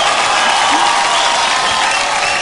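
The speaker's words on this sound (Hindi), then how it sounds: "जोरदार तालियां हो जाए, जोरदार तालियां हो जाए।" A studio audience at a televised dance show claps loudly in a dense, sustained burst that fills the whole moment without a break.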